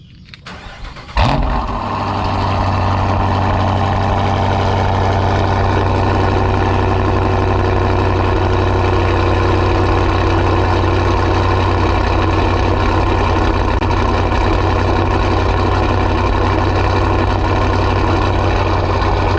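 A Dodge R/T with a 5.7 Hemi V8 cranks briefly and fires on a cold start, then settles into a loud, steady, rumbling idle that holds for the rest of the clip.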